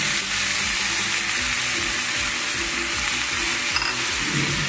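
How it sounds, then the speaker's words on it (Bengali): Potatoes and boiled drumstick flowers fry in oil in a pan, giving a steady, close sizzle with occasional stirring scrapes and no talking. "এটা দিয়ে খুব ভালো করে ভাজবো।"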